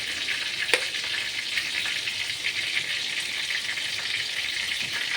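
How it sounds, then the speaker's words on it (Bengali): Bay leaf tempering in hot oil gives a steady, close sizzle with faint crackles and one sharper pop early on, heard alone without voices. "এর মধ্যে একটুখানি তেজপাতা ফোড়ন দেব"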